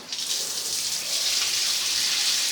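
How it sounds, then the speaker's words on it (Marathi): Tap water runs continuously in a home, a steady, close hiss of flowing water that holds without a break throughout. "आता पाणी चोवीस घंटे चालू असतं इथलं पाणी बंद नसतं"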